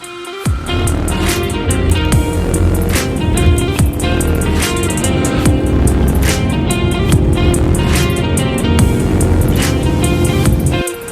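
A Ford Mustang 2.3 EcoBoost accelerates hard during a performance test, its engine note loud and sustained for about ten seconds with steady power and no talking.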